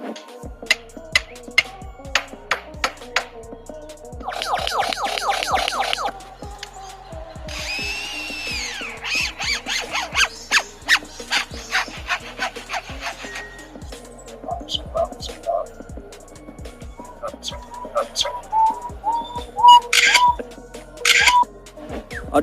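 A lyrebird mimicking construction tools: rapid drill-like whirs, bursts of sawing and sharp hammering taps in irregular clusters, loud and close, with a voice speaking over parts of the sequence.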